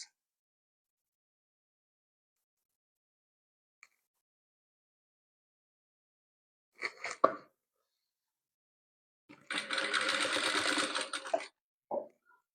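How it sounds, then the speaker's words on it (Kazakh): A sewing machine stitches patchwork rows together in a quiet room: two short bursts of stitching, the second lasting about two seconds, separated by silence and a few faint clicks. "Енді жаңағы төртінші қатарымызды, дайын болған қатарымызды мына тігіп қойған қатарымызға тігіп тастаймыз"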